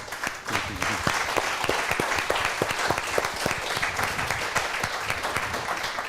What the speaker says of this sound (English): Can we give him another round of applause for his